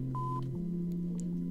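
Telephone keypad dialing in the video game Fahrenheit: a single clear electronic touch-tone beep pair, steady and close, over a low continuous hum, with no voices.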